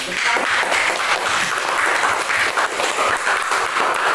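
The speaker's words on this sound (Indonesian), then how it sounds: "beri tepuk tangan untuk kelompok 3 dan kelompok 1" A classroom full of people clapping for student groups after presentations, dense and sustained applause throughout with no pauses.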